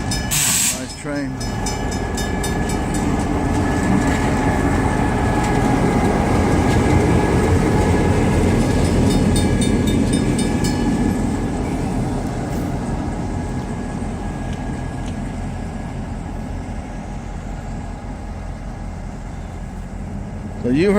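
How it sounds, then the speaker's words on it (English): A train rumbles past close by, with a loud continuous roar, rail clatter and hiss that fade slightly toward the end. "So you heard that train go by me, and it's not far."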